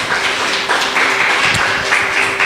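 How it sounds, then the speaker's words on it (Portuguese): An audience in a church conference session applauds steadily and loudly, a dense wash of many hands clapping throughout with a few sharper claps standing out, no talking over it. "Vamos aplaudir até agora."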